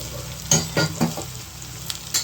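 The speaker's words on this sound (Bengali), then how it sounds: "এবার আমি গরম জল ঢেলে দেবো।" Hot water poured into a spiced cauliflower fritter (pokora) curry, setting off a loud sizzle, with a few sharp bursts and stirring clatter close by and no voices.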